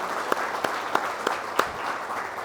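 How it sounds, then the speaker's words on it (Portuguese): Applause closes a lecture at a Senai venue in Santos, a moderate spread of clapping from a modest audience with a few sharp, distinct claps standing out above the rest. "uma salva de palmas para vocês que me aguentaram até agora."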